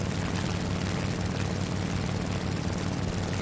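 Propeller engine of a Soviet I-153 biplane in War Thunder, a loud continuous droning buzz held steady and close throughout.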